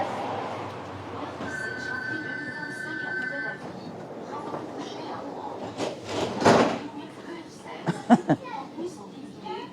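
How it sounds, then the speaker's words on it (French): A metro train rumbles along with steady rail noise, a brief tonal whine partway through, then clattering bumps and knocks from the carriage toward the end. "Je suis dans le métro."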